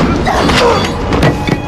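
A grenade detonates in a film scene: a loud, dense boom with crashing, shattering debris spread across the whole short burst, with no pause in the roar.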